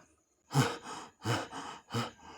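A man pants heavily after climbing stairs, giving four loud, rough breaths in quick succession, close to the listener with no talking.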